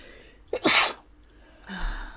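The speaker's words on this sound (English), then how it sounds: "I'm going to sneeze again." A single sharp sneeze with a quick inhaled gasp before it, followed by a brief breathy exhale; close and fairly loud, no talking.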